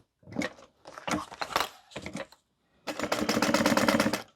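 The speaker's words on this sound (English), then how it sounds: "I'm going to stitch all the way around." A sewing machine stitches a tote bag in short bursts of rapid needle clatter, a few brief runs separated by pauses and then a longer sustained stretch, close and clear.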